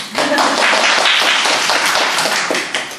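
Loud, close applause rises from an audience at a student talk, a dense burst of clapping that holds steady and then starts to fade near the end.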